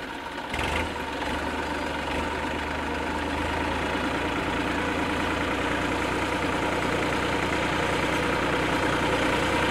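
A tractor engine idles with a steady, low, continuous chug that runs unbroken at moderate loudness for about ten seconds, with no talking.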